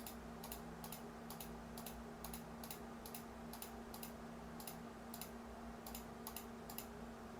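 Rapid, evenly spaced mouse clicks repeat steadily over a low, constant electrical hum while drafting in AutoCAD, each click sharp and close with no voices.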